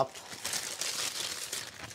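Crisp crinkling of parchment paper being unfolded, a run of close papery rustles lasting about two seconds.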